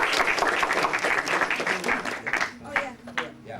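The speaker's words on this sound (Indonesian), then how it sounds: "untuk Mas Gali kita tepuk tangan dong" Audience applause for Galih, a participant joining in at a university orientation motivation training session, a dense wash of clapping that thins toward the end with a few separate claps.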